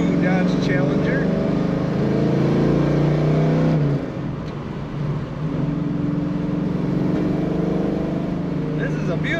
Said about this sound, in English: Today we're driving a 1972 Dodge Challenger.